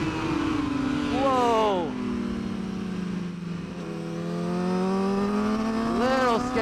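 A superbike engine revs and winds up and down through the gears during a race, heard close from the rider's position with pitch rising and falling, and a short exclamation from the rider over it.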